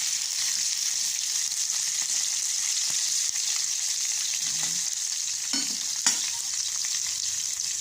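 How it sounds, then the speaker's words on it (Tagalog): Steady, loud sizzling of pre-boiled chicken frying in a pan until golden brown, a constant hiss with occasional pops and a few scraping stirs. "prituhin muna natin itong manok"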